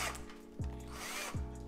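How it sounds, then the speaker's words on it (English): A power drill whirs as it bores holes in a watermelon, with a steady motor whine that briefly bogs down twice, close and fairly loud, with no talking. "he's actually drilling fucking holes in it"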